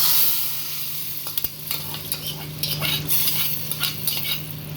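Spices tempering in hot oil for brinjal sambar, a close hissing sizzle broken by light clinks and scrapes of a metal spoon against the pan.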